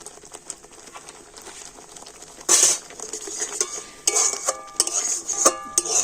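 Mashed sweet potato stirred with water in a bowl makes clinking, scraping utensil strokes against the bowl in uneven bursts, louder in the second half, with no talking.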